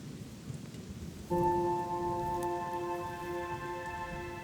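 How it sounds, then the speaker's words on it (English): Steady rain patters on a surface over harvested wheat fields in China, while a sustained electronic tone starts suddenly partway through and hums on over the rainfall. "And as if by clockwork, it's raining"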